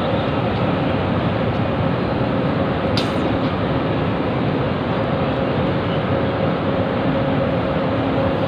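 Steady loud rumble of a train in Taipei rolling along the tracks, continuous and close, with a brief metallic squeal partway through.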